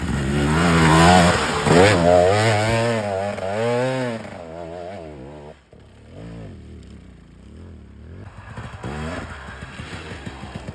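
Enduro motorcycle engine revving hard while bogged down and stuck, loud and near, with wavering pitch surging up and down over several seconds, then dropping to a lower, rougher revving before climbing again.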